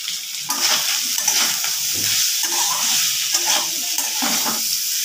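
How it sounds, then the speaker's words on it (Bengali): Soybean chunks frying in a pan with salt and turmeric, a close sizzle with repeated spatula stirring scrapes and knocks in an uneven rhythm, heard alone without talk. "সোয়াবিনের মধ্যে পরিমাণ মতন লবণ, হলুদ দিয়ে ভেজে নেব।"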